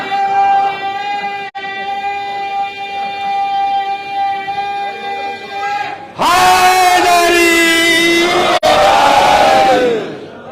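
A crowd at an Eid-e-Ghadeer gathering in an imambargah chanting a religious slogan, loud massed voices. A sustained tonal hum runs first, then the chant swells suddenly and stays full and loud to the end.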